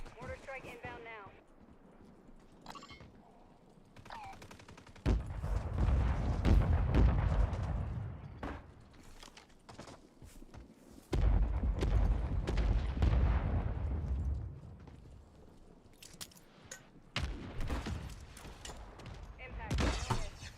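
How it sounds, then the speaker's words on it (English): Mortar strike explosions in a video game, heavy rumbling blasts rolling in long waves with sharp cracks between them, and a voice talking over parts of the barrage. "Copy. Mortar strike inbound now."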